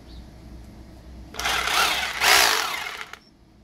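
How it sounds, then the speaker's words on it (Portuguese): A Bosch GBH 2-24D rotary hammer drills into material in one burst of about two seconds, a loud close buzzing hammer-drill roar that rises, peaks and then cuts off, set between quieter stretches of room noise. "Olha aí, galerinha, ela furando."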